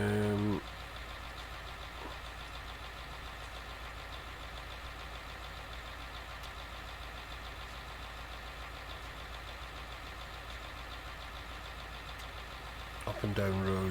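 Tractor engine in Farming Simulator 19, a steady mid-pitched drone running evenly throughout, with a brief louder rev or start at the beginning and a change near the end.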